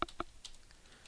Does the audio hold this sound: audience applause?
no